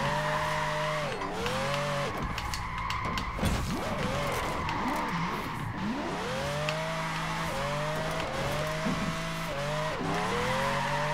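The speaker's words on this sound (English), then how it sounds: "The sound is pretty okay for a Ferrari in this game." A rear-wheel-drive Ferrari in Forza Horizon 4 revs hard, its engine note rising and falling through gear changes while tires squeal and skid in long drifting slides, loud and continuous throughout.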